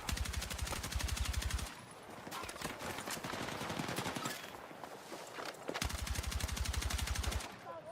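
Bursts of rapid automatic AK rifle fire in the Battlefield 6 video game, loud sustained volleys at the start and near the end with a busier stretch of scattered shots and movement between them.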